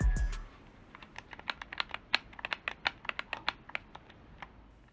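Rapid controller button presses for a turbo stall chain in Rocket League Sideswipe, a close series of sharp plastic clicks in uneven quick bursts after a brief thump at the start, with no talking.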